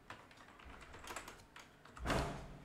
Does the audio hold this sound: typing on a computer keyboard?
yes